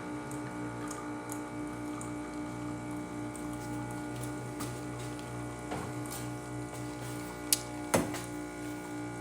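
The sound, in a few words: Olympia espresso machine pulling an espresso shot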